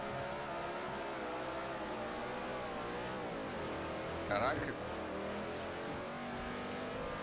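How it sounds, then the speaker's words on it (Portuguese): A NASCAR stock car in Forza Motorsport 4 on Xbox 360 accelerates, its engine tone climbing steadily and loudly, with a short burst of extra noise midway and someone talking over it. "Esse cara aqui tem um som do motor bem alto, cara. E a aceleração dele, nossa senhora"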